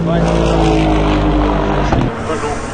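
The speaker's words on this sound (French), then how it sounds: "Et je suis toujours aussi autant impressionné par le bruit de la Cadillac" A loud Cadillac race car engine roars close by during free practice at the 2024 Le Mans 24 Hours, a dense, heavy drone with a droning harmonic whine that drops in intensity near the end, with voices mixed in.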